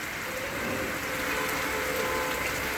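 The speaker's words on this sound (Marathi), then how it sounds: "पावसाळ्यातला पहिलाच पाऊस अतिशय सुंदर प्रकारचा या ठिकाणी पडताना आपण पाहत आहोत" The first monsoon rain of the season falls at a primary school, a continuous, even patter of drops on surfaces close by, with no voices.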